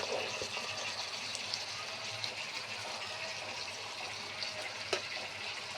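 Water pours into a mango pickle mixture in a kitchen, making a faint, steady splashing rush that runs continuously with a couple of small clinks.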